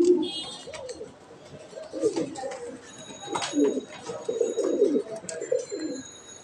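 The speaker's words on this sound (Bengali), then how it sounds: "খুব সুন্দর কোয়ালিটির কবুতর," Imported fancy pigeons, including Holle Croppers, Black Danish, German Beauty and Barless Racers, coo in soft repeated low rolling phrases close by, with faint chirps and background clatter between them.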